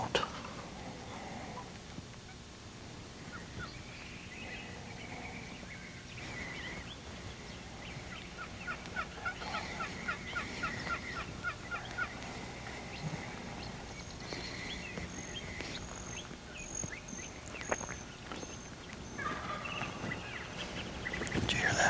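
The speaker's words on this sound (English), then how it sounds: "Did you hear that? Gobbler right over here." A wild turkey gobbler gobbles outdoors during spring hunting, its calls fairly faint and distant against steady background noise, with several short bursts scattered through the stretch.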